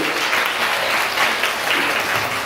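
A church congregation at a joint Sunday worship service in Linkou breaks into steady applause, a dense wash of clapping from many hands filling the room without pause.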